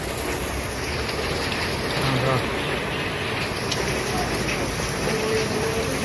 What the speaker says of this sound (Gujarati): હજી ભાઈ વરસાદ ચાલુ છે